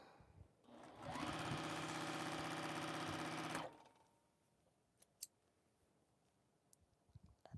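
A sewing machine stitches quilt pieces in one quick run of about two and a half seconds, fairly close, followed by quiet with a few small clicks.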